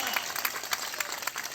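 An outdoor fair audience at a poetry recital breaks into applause, a dense, steady patter of many hands clapping at moderate distance, with no one speaking.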